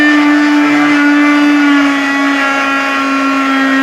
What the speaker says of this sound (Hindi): और साथ में आपने चीनी जो है वो डाल के तो इसको ब्लेंड कर देना है।